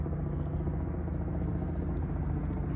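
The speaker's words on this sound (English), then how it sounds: "You can hear a helicopter overhead" A helicopter passes overhead above the forest of Stanley Park, a steady low rotor rumble that stays constant and moderately distant throughout, with no talking.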